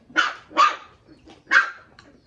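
Household dogs bark in three sharp, loud barks, the first two close together and the third after a pause, with a faint yip at the end.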